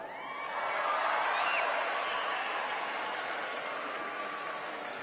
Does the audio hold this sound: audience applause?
yes